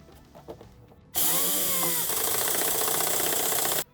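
A power drill drives a self-tapping screw into the steel chassis of a 2006-2014 Renault Trafic van, a loud continuous whine of nearly three seconds that begins abruptly after a quiet lead-in and stops sharply.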